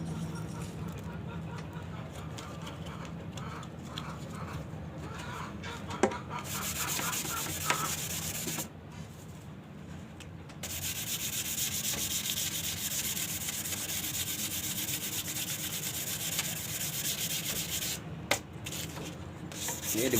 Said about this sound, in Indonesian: Ini digosok terus ya, sampai bosen, gosok terus.